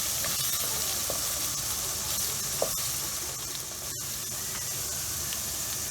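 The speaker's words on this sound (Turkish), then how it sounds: "Güzelce bunu da bir yaklaşık 4-5 dakika kavuracağız etlerle beraber." Meat sizzles steadily while being sautéed in a hot pan for fresh pea stew, a constant hiss with a faint clink partway through and no voices.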